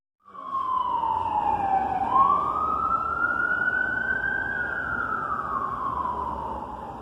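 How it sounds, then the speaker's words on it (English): An emergency vehicle siren wails steadily, its pitch sweeping down then slowly rising and falling, loud and close with no talking. "It would be unusual if there wouldn't be a siren"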